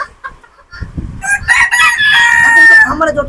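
Chickens cluck close by, then a rooster lets out a long crow over the clucking.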